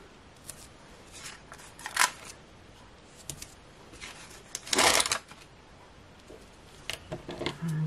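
Craft scissors snip through card or paper strips about 2mm wide for a papercraft card, heard as a string of crisp, close cuts, some single and some in quick bursts, with quiet pauses between.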